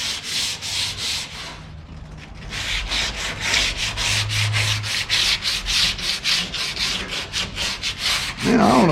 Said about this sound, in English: when I go to sand up here in the face, I'll drop down on the sandpaper